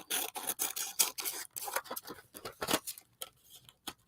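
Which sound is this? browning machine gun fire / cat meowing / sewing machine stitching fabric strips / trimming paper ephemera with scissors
trimming paper ephemera with scissors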